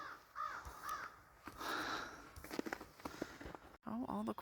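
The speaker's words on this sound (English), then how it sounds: "Oh, all the crows are coming." Several crows caw outdoors in repeated harsh calls, some near and some farther off, with footsteps and other small sounds between them.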